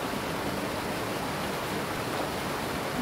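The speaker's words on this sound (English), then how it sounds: "Go up the waterfall here." Rushing waterfall in the GRIS video game, a steady broadband wash of falling water that stays even and unbroken throughout, with no voices over it.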